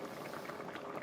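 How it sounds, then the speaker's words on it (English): Vegetable soup simmering under a lid in a pot, a faint, steady bubbling murmur that continues unbroken. "I'm just gonna put a lid on it, put it on simmer"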